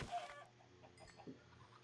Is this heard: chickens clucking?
yes